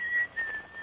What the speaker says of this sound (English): That tune you're whistling.